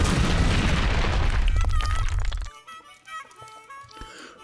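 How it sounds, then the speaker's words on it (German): Explosion in the action video game WET, a loud rumbling boom with crackling debris that fades into scattered clanks and game sounds. "wenn ihr irgendwas explodiert"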